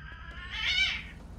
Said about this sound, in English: Wow, that was my cat.